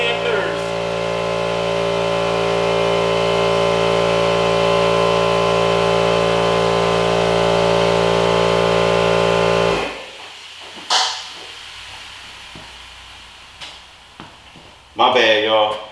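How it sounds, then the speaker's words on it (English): A loud air compressor runs steadily with a strong harmonic motor hum in a garage during BMW E90/E92 manual transmission work, then cuts off near ten seconds, leaving a quiet room with scattered knocks and clatter. "Hold on, that damn compressor got the hell on my damn nerves."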